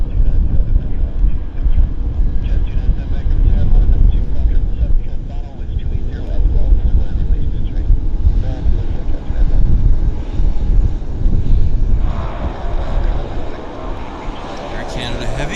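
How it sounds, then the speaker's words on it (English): Air Canada heavy airliner landing at Vancouver airport, a broad low roar with wind buffeting the microphone, fairly distant and steady, rising slightly toward the end, with people talking over it. "Air Canada Heavy landing."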